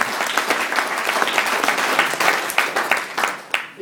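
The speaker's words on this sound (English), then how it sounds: "Emma and Stuart deserve a large round of applause for making such a big effort to be here to celebrate Joanne's and Ben's big day." Wedding guests break into a steady round of applause, dense overlapping claps filling the room at close range with no talk over it, tapering slightly toward the end.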